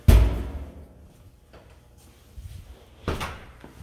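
A door to the garage in a house shuts or opens with a close, heavy thud, followed by quieter knocks and a second solid bump about three seconds later.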